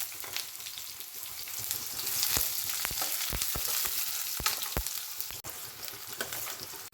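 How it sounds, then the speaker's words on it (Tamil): Chopped onion frying in a pan for a black-eyed pea and yellow pumpkin curry gives a steady, moderate sizzle, broken by scattered sharp pops and spatters. "வெங்காயம் நல்லா வதங்கிடுச்சு."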